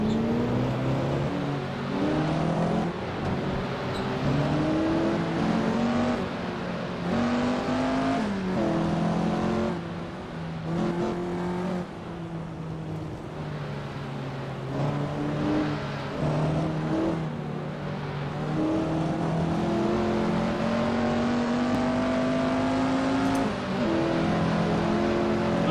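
TVR Griffith 200 engine revving hard around Goodwood in Assetto Corsa, repeated rising surges through the gears with brief dips on upshifts and braking, loud and continuous throughout.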